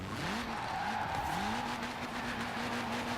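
Tires squeal in repeated rising chirps and then a long sustained screech as an Abarth drift car slides through Forza Horizon 4. A steady engine roar sits underneath, loud and close, with no talking.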